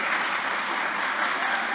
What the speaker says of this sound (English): I want an applause for the staff all throughout the university.